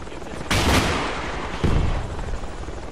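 Rocket launcher fires in the military video game Project Reality, a sharp loud blast followed by a rumbling tail, then a second heavier impact boom about a second later amid background battle noise.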